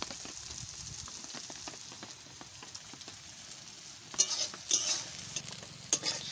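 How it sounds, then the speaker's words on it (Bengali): Soybean chunks fry in oil with salt, giving a quiet steady sizzle broken by a few louder scraping stirs toward the end. "সয়াবিনে কিন্তু আমি হলুদ দেইনি, শুধু লবণ দিয়ে আমি ভেজে নিচ্ছি"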